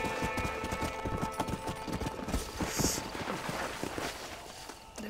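Rapid, rhythmic hoof clip-clops of a horse in the video game Red Dead Redemption, moving at a steady trot under game ambience with a faint whinny-like tone.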